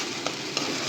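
Chicken cooking in a pan gives a steady low sizzle, broken by two light clicks of a spoon or spatula stirring.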